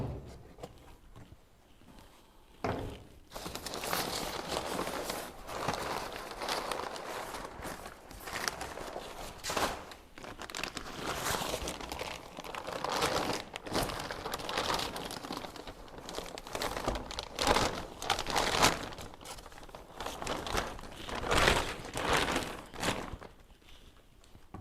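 Packaging for a TC800XT turbocharger crinkles and rustles as it is unboxed, with irregular close crackling bursts and handling noises continuing almost throughout after a quiet start.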